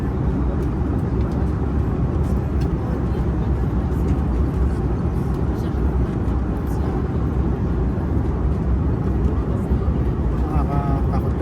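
Cabin of an airliner in flight on approach toward Thailand during a bumpy ride: a constant deep engine and air rumble that stays loud and even throughout, with faint voices now and then.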